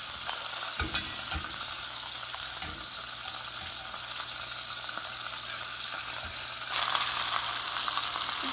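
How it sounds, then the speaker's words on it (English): Chicken pieces browning in a hot pan for Chicken Vesuvio, a steady close sizzle and frying hiss with a few scraping stirs and clinks, no voices. "It looks like this one is browning nicely too."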